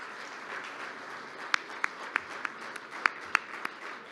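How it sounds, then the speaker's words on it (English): An audience at an annual meeting applauds, heard as a low steady wash of distant clapping with a few sharper nearby claps standing out. Fairly faint and continuous for about four seconds, with no talk. "If we could get a round of applause for all of them and all our hard work"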